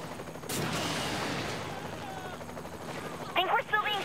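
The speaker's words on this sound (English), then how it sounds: "Think we're still being shot at." Bursts of video game gunfire in Saints Row: The Third during a helicopter flight: a loud crackling volley near the start, a sustained rumble, then a sharper cluster of shots near the end.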